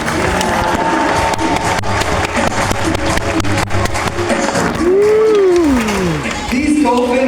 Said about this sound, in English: Can you please send them up to their seats with a huge round of applause?